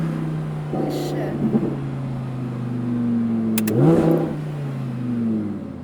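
An Audi R8 with an $8000 aftermarket exhaust revs and accelerates, its engine note rising and falling through several pulls, while people talk over it.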